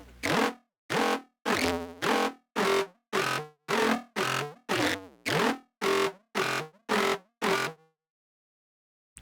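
Synth notes run through spectral resonance filters and saturator distortion, about a dozen short buzzy, gritty bursts in a steady rhythm, each loud and harmonically dense, followed by silence.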